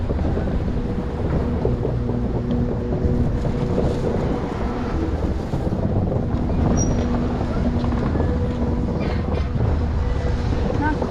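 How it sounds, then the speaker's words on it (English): Steady wind buffets the microphone for the whole stretch, a constant low rumble with a voice talking over it at times. "but it's still pretty windy."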